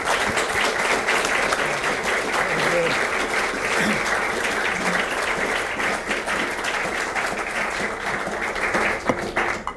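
An audience applauds steadily to welcome Ambassador Beazley at a business talk on United States-Australia relations. The dense, sustained clapping fills the room for about ten seconds, with a few voices mixed in.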